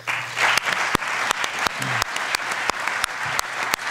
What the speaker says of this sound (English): So wanted to also give a quick round of applause for the Lester Center and Kirsten for putting on this event